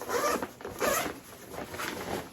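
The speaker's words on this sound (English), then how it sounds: "is this horseshoe zipper or front zipper" Several quick zipping rasps from a zipper being pulled open on a Badlands MRK6 bag, close and fairly quiet, in short bursts with brief pauses between.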